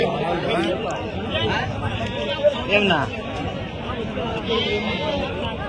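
Sheep bleat amid a noisy crowd at the Angallu sheep market, with steady chatter and voices throughout and a few louder bleats standing out near the middle.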